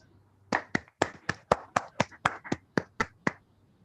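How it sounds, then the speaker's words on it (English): About a dozen sharp, evenly spaced claps sound close and fairly faint at a Toastmasters meeting award announcement, more like one or two pairs of hands than a full crowd. "Give him a huge round of applause."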